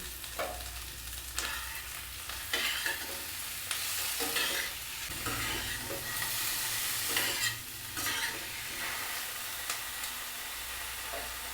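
Boneless chicken frying in a pan for a stew, a quiet steady sizzle broken by repeated bursts of scraping as it is stirred.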